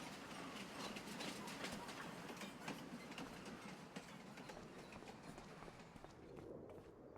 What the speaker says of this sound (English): There it is, lovely steam train.